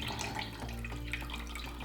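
Chicken broth pours steadily from a pot in a home kitchen, a continuous close liquid splash and trickle running without a break for a couple of seconds.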